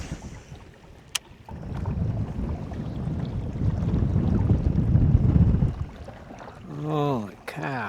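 Strong wind gusting over a lake while fishing from a Newport NV62 motor-powered competition canoe, a loud broad buffeting rush against the microphone for several seconds, followed by someone speaking at the end.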